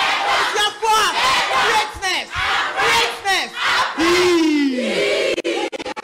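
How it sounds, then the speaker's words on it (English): Auditorium audience at a high school debate contest erupts in loud, sustained cheering, with whooping and shouting voices rising and falling across several seconds. "A round of applause for all of you in this auditorium."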